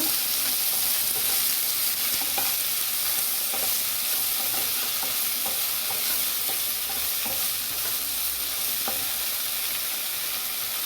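Okra fries with onion in a pan using little oil, giving a steady close sizzle broken by light, regular stirring clicks and scrapes, with no voices over it.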